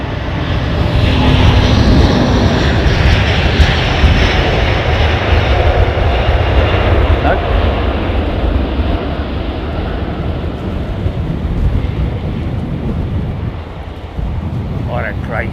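An Air China Boeing 747-8i jet roars loudly and steadily on departure, a broad rumbling wash of engine noise with wind buffeting the microphone, holding strong for the whole stretch before easing slightly near the end.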